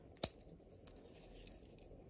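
The scissors on a Victorinox Huntsman pocket knife with Micarta scales flick open with a single sharp metallic click near the start, followed by faint small handling ticks in an otherwise quiet setting.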